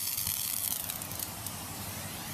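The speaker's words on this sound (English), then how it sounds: "And I just spray these like that." A pressure sprayer mists oil onto raspberry canes, giving a steady, close, continuous hiss of spray with faint rustling throughout.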